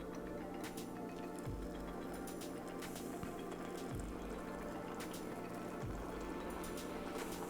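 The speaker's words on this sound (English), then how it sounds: "we're gonna add water" Water trickles and pours into a pouch of a dry military field ration containing chicken, a quiet steady fill with a few soft ticks and taps, close up with no talking.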